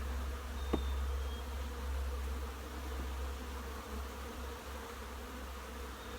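Honeybees emerging in a queen castle hive setup give off a steady, close insect hum with a faint low drone underneath, continuous and fairly quiet, with one sharp tick early on.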